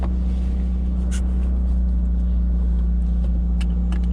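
A 1984 Pontiac Fiero engine idles just after starting, a steady low droning rumble heard up close from inside the car, with a few faint clicks and small knocks over it and no talking.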